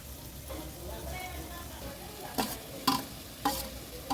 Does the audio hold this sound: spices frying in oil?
yes